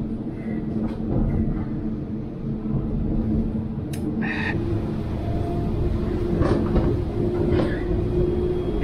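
A regional train runs toward Ulm with a steady, loud rumble and rolling noise inside the carriage, broken by a few faint clicks and squeaks along the way.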